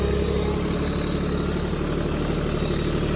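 Tractor engine running steadily on a golf course, a dense, constant low rumble at close range with no pauses or clear revving.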